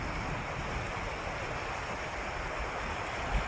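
Floodwater surges through residential properties near Johnson Lane, a steady, dense rushing roar that fills the scene without pause and sounds close and continuous.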